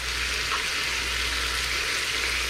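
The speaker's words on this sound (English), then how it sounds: "make sure that you don't burn your oxtails. We're just browning it" Oxtails browning in an Instant Pot, a brief steady hiss of sizzling fat, even and moderately loud with no voices.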